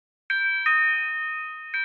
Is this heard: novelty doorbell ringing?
yes